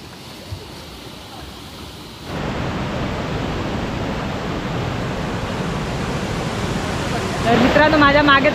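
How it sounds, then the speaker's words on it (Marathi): A small waterfall at Kadape Kondi near Mangaon in Raigad pours with a steady, broadband rushing roar that swells louder partway through, while a person talks over it near the end. "माझ्या मागे तुम्ही बघू शकता जबरदस्त पाण्याचा स्टेपनी येणारा धबधबा आहे"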